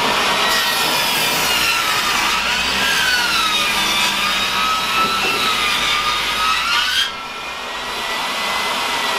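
A loud power saw cuts through a 2x4 board for about seven seconds with a high whine and rough rasp, then winds down.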